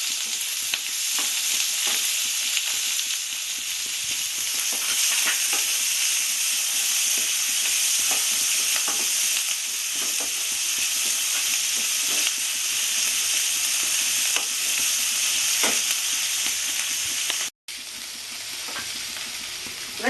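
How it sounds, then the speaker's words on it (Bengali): Sliced onions frying in hot oil for a Bengali-style fish dish make a loud, close, continuous sizzle with fine crackles and a steamy hiss. The sizzle holds steady for the whole stretch apart from one instant dropout near the end. "তেলটা আমার গরম হয়ে গেছে আমি পেঁয়াজগুলো দিয়ে দেবো এবার"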